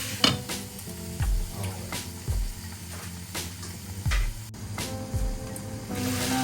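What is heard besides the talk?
tomatoes sizzling and being stirred in a pot for pork sinigang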